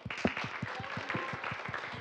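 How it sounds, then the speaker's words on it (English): Small audience at a school music presentation clapping for a soloing pianist, steady rhythmic claps at about four per second, fairly faint and fairly close. "Give him a round of applause."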